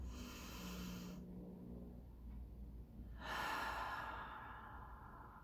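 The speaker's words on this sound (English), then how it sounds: "we are going to take a deep breath in." One deep breath drawn in through the nose, then a pause, then a long, audible exhale, close and quiet with no talking.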